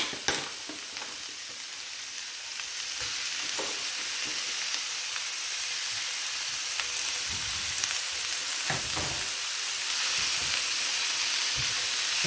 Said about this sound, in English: We're just going to add 1 kilo of beef mince, or 2 pounds. We're just going to cook this until it browns